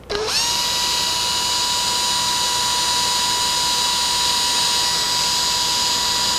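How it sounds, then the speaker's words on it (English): Tiny 1/16 inch drill boring into mahogany in a guitar build for a 1964 ES 335 replica spins up with a sharp whine and holds a loud, steady high-pitched drone. "So now I got a drill for those. Okay. Tiny little 1/16 inch drill."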